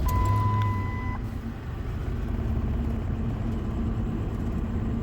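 A truck engine with new fuel filters catches and settles into a rough, steady idle that continues throughout. A short beep and a high tone sound during the start.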